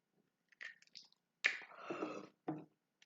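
Someone bites into a raw lemon and chews it with a few close, quiet crunches and wet squishes, separated by short silences.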